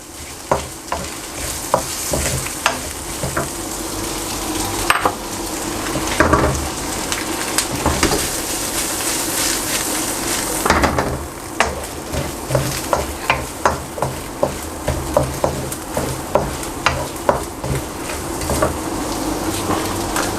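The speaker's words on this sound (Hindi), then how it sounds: "थोड़ा सा मिक्स करेंगे। 1-2 मिनट इसको मैं पकाऊँगा।" Prawns with long-cut carrot and baby corn stir-frying in a pan, a steady loud sizzle broken by repeated sharp scrapes and clacks of stirring that come in quick bursts through the second half, with no talk.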